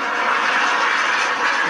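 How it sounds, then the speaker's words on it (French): A military aircraft's engine drones steadily and loudly overhead, a constant broadband roar with no pauses or voices. "un avion militaire"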